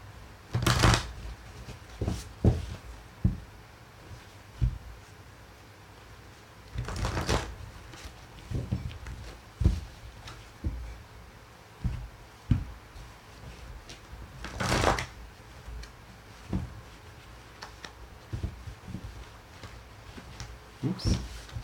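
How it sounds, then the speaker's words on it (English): Tarot cards are shuffled by hand in several loud, crisp bursts spaced a few seconds apart, with softer taps and handling noises in between, close up and without talk. "I'm being told to shuffle 7 times"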